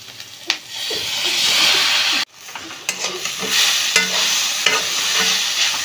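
Chow mein stir-fried with egg, salt and turmeric, a loud close hiss of frying with rhythmic scraping and clanking of the spatula, broken by one sudden brief drop-out, no talking.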